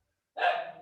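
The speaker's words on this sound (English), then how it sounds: "I tapped my table, my dog goes nuts." A single dog bark rings out loud and close, set off by someone tapping on a table, with a brief trailing tail and no talking.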